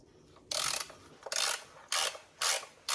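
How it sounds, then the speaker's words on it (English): A ratchet wrench loosens 10 mm valve cover bolts on a 2012 Mini Cooper S Coupe, heard as four short, close, raspy clicking bursts separated by brief pauses. "the rest of these bolts are gonna be 10 millimeter. I can go ahead and take care of them one at a time."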